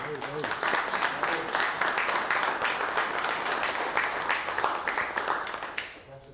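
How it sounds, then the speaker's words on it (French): Town council meeting audience in Cap-Santé breaks into steady, moderately loud applause lasting several seconds, fading out at the end. "On peut applaudir."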